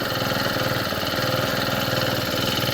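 Small Honda GX25 tiller engine running steadily after starting, a loud, close, buzzing mid-pitched idle with a fast regular pulse throughout.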